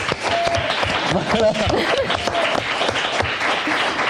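A crowd applauds steadily for several seconds while a person speaks briefly over the clapping.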